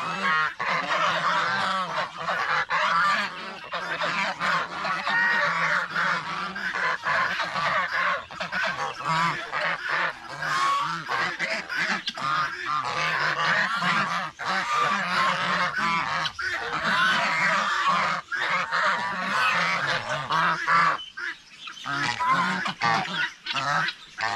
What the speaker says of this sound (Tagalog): kumain ng mais yung mga gansa natin.